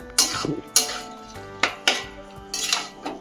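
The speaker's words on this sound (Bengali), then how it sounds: "এই যে এখানে এখন আমি পনিরটা দিয়ে দেবো।" Paneer goes into a pan for chilli paneer and gets stirred, with a series of sharp metallic clanks and scrapes of a spatula against the pan, spaced unevenly and close up.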